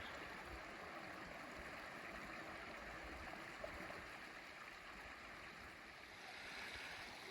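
Creek water flowing steadily in the Grand Canyon near Kwagunt Canyon, a quiet, continuous wash of rushing sound heard from a distance with no voices.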